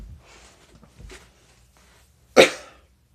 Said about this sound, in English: My coughing is going to get bad.